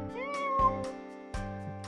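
Cat meowing in Final Fantasy VIII, a single drawn-out mew rising over a steady, sustained game music bed, with no talk.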